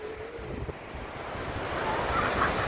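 Ocean waves wash continuously, a steady broadband roar of surf with wind buffeting the microphone, swelling slightly louder toward the end.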